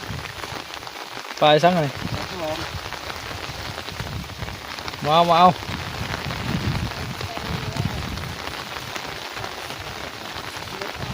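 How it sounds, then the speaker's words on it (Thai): Steady rain pattering on a surface outdoors, a constant dense hiss throughout, with people talking briefly over it and occasional soft knocks nearby. "ตกดีแท้ฝนนี่ก็ได้"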